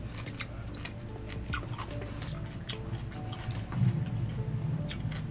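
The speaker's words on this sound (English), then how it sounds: "Can y'all hear me chew?" Crisp, close chewing of raw cucumber, with repeated wet crunching bites in an irregular rhythm, fairly quiet and heard alone without talk.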